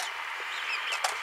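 Chickens in a backyard flock cluck and murmur softly over steady outdoor hiss, with one sharper squawk near the end, moderately close.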